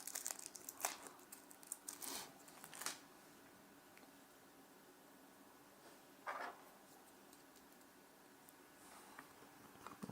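A plastic bag of screws crinkles in short, close, quiet bursts as a screw is taken out during the build of a Marvel Infinity Gauntlet diecast model, with pauses of near silence between the rustles.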